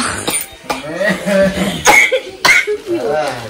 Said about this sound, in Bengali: আরে হুপিং কাশি